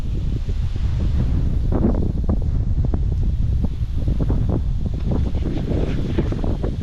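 Wind blows across a boat in a steady, loud, rumbling roar that buffets the microphone, with gusty low rustling throughout and no talking.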